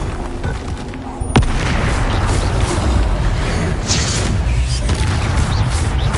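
Confringo spell blasts in the Hogwarts Legacy video game, a loud sharp crack near the start followed by dense, continuous booming and rumbling combat noise throughout.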